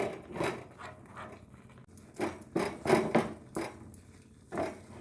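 A spoon scrapes and knocks through a thick date-palm jaggery mixture in a pan, a series of rough strokes that grow louder and more rhythmic midway, close up, with no voice.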